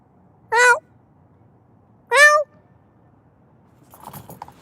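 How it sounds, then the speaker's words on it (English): Two cats meow, two clear, close cries about one and a half seconds apart in a quiet room, followed by faint rustling. "Who else is making cat noises?"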